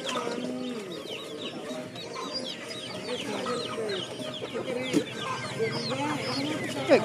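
Free-range native chickens on a small home farm cluck and chatter steadily throughout, a dense, continuous flock sound with a few louder calls standing out near the end.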